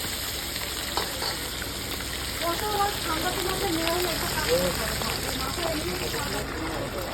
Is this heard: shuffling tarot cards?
no